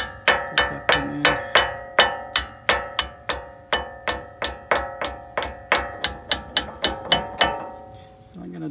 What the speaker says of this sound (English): Then I just use a hammer.